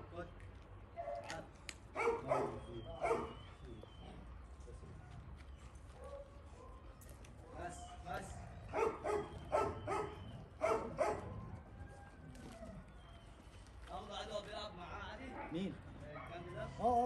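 A husky dog barks in scattered bursts of several yelps each, faint and at some distance, with quiet gaps between the outbursts.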